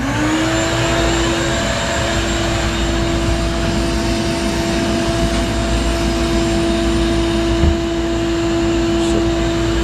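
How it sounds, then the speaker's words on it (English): A shop vacuum cleaner hooked up to a Harbor Freight sandblast cabinet draws dust out with a loud, constant motor whine and airflow roar that holds steady throughout, with no talking. "my vacuum cleaner hooks right up to this thing to suck the dust out"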